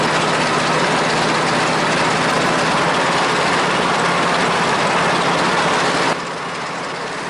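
A Westland Lysander's radial piston engine runs loud and steady while the aircraft taxis, a dense broadband drone with a low hum that drops slightly in level near the end.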